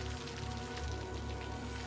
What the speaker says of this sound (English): It's raining so loud.